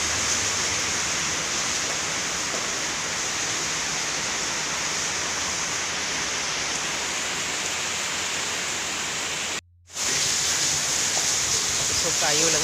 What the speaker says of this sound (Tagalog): Ang kusog pag samot ang uwan guys